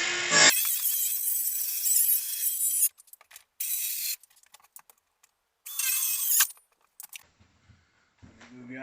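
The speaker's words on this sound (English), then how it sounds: "Let the sawing begin." Skill saw cutting through a panel during a panel installation, harsh bursts of blade noise in several separate cuts with gaps of near silence between them.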